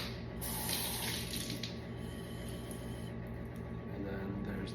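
Water runs steadily from a tap for several seconds, a continuous hiss of splashing flow with a brief louder surge near the start.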